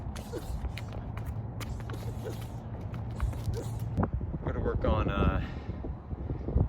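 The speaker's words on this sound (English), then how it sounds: "the wind. Damn it. Scared me." Wind blowing outdoors in the dark during boxing training, gusting and buffeting the microphone with a rough, fluttering rumble that swells toward the end, with creaks and movement noises and a voice speaking partway through.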